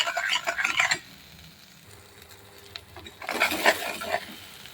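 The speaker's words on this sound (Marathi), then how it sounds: "चटणीमध्ये पाव चमचा हळद, पाव चमचा गरम मसाला घालून परतवून घ्या। चटणीला चांगले तेल सुटेपर्यंत परतवा।" Chutney with turmeric and garam masala being sautéed in oil, with bursts of scraping stirring and light sizzle at the start and end, and a quieter low hiss in between.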